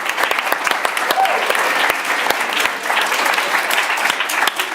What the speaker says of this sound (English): Everybody give a round of applause for Hero